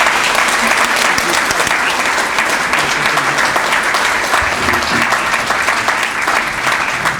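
A hometown crowd in Walton County applauds to welcome Congressman Jody Hice, dense sustained clapping that stays loud and even throughout.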